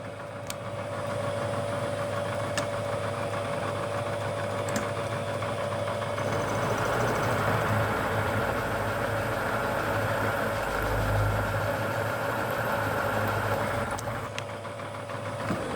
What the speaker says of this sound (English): I'm going to take a 1/4 inch end mill, just plunge right through, and that'll give us our radius